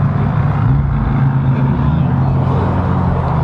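A steady, loud engine rumble from a 1550 HP Nissan GT-R's exhaust, with a deep low drone, continuous throughout, like a car idling or cruising close by.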